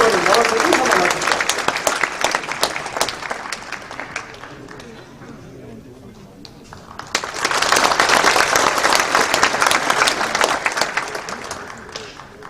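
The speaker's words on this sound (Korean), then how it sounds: "어떻게 박수로 받아주시면 고맙겠습니다" Large audience applauding at a church elders' association general assembly, sustained clapping that dips to a softer patter midway, then swells again into a loud, dense round of hands.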